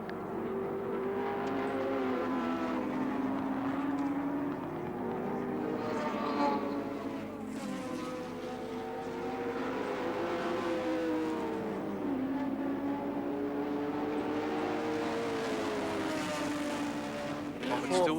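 Touring cars racing at Oran Park in 1983, a Nissan among them, with engines rising and falling in pitch as they pass and change gear, loud and continuous under a commentator's voice.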